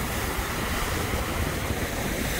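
Steady wind and surf on the Lake Erie shore by a lighthouse, a constant broadband roar of breaking waves and gusting wind across the microphone, loud and unbroken throughout.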